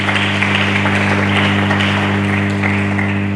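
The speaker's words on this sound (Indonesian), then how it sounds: "Mari kita berikan tepuk tangan dulu bagi Yesus" A congregation applauds during a sermon at an Indonesian church service, a steady, dense wash of clapping that holds evenly throughout, with a low electrical hum running beneath it.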